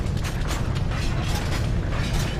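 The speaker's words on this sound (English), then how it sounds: "Oh, look, gears." Grinding, clanking machinery of gears in the video game BioShock 2 turns steadily, with ratcheting clicks and creaks in a continuous mechanical churn, fairly loud and without speech.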